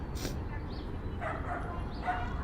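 A dog barks and yips a few times on a Manhattan city street, short moderately distant barks over steady traffic and street noise, with a faint voice nearby.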